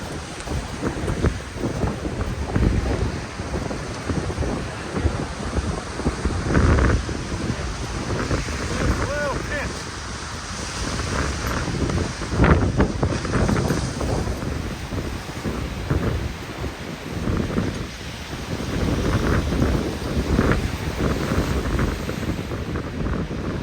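Strong wind buffets the microphone in gusts over the low rush of surf, with faint speech now and then underneath.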